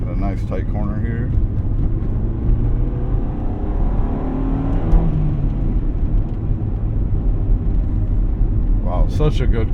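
A 1995 Honda Civic Si EJ1 drives with a steady loud engine drone and road rumble from inside the cabin, holding an even tone throughout.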